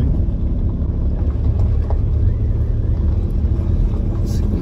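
A car rolling slowly around a campsite, a steady low engine and road rumble heard from inside the cabin, loud and continuous with faint voices underneath.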